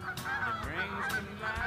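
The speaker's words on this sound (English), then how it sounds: "These geese won't shut the fuck up." Geese honk loudly and repeatedly at a pond during a bass fishing outing, their nasal calls overlapping in a steady, close chorus.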